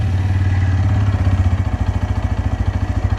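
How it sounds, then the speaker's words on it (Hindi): A Bajaj Pulsar N160 motorcycle engine starts and settles into a steady, even idle, a loud close-up thrum pulsing in a quick regular beat with no talk over it. "आपको सुनाता हूँ इसकी इंजन की आवाज़।"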